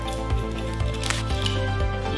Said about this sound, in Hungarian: Így is körbevágjuk az üveget.